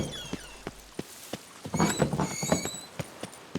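Hoofbeats clop at a steady pace in the video game The Witcher 3, sharp and close, with brief creaking and thudding noises layered over them near the middle.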